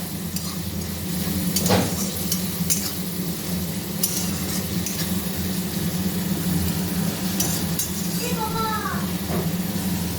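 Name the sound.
onions and spices frying in a pan for mutton curry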